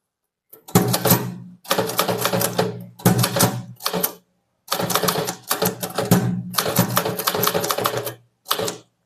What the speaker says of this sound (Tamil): திருக்கு அப்புறம் புள்ளி வச்சுட்டு ஒரு ஸ்பேஸ் விட்டு அவர் பேரில் வர நகுலன் கேபிட்டல்